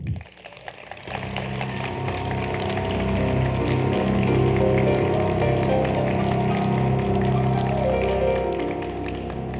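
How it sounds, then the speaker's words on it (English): Sustained applause from an awards-ceremony audience at the Community Radio and Broadcast Online Awards, a dense steady roar of many hands that swells after a brief start and holds loud, with no talk over it. "Can we give a big community radio round of applause to Sherry Okeke?"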